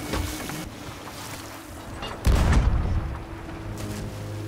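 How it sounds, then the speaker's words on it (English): Ship cannons firing during a naval battle in the Sea of Thieves pirate game, with heavy booms over rumbling sea and ship noise and a big blast near the middle. "Keep up fire."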